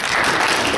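Congregation audience in a meeting hall applauding in a brief, dense burst of many hands clapping at once, loud and close.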